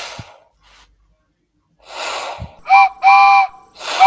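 A steam engine whistle from an animated story, two short clear toots close and loud, set among puffs of escaping steam.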